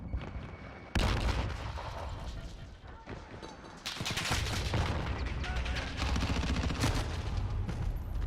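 A grenade blast and gunfire burst out during a Call of Duty match; a loud detonation hits at about one second, then a dense, sustained roar of shots and impacts follows close up.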